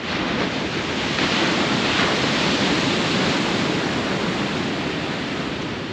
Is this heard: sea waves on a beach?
yes